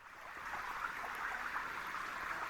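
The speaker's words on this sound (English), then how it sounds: "I'm so fortunate to find this little stream" A small mountain stream flowing through snowy woods, a steady soft rushing and trickling of water heard alone, faint and continuous.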